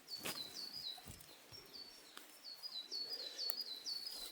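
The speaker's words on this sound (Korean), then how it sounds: "새소리는 더 커졌습니다." Small birds sing in a mountain forest on a morning walk, giving faint, high chirps and short repeated phrases at a distance over quiet, hushed surroundings.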